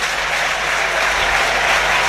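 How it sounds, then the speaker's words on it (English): A football crowd at an FA Cup match between Cambridge United and Chester applauds a substituted player, giving steady, dense clapping that carries evenly throughout without pause. "he gets a good round of applause"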